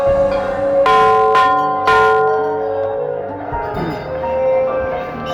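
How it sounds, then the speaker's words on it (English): A bell rings out loud and near in the early morning during a walk, with several strong, sharp strikes whose bright tones hang and slowly fade into a lingering hum. "Let's ring the bell."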